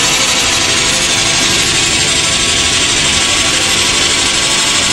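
An Alfa Romeo 116 GTV engine idles steadily under the bonnet, a loud, constant mechanical rumble with no change in pace and no talk.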